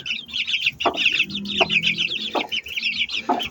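A hen, sitting on duck eggs, clucks repeatedly at close range in short, uneven bursts of soft, throaty calls, with no talk.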